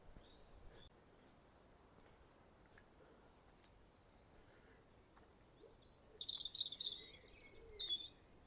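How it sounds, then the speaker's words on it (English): A green woodpecker calling from trees above a lane at Ventnor on the Isle of Wight: after a quiet outdoor stretch, a series of sharp, bright calls rings out repeatedly toward the end, fairly distant. "Very loud green woodpecker up there somewhere. Hear that?"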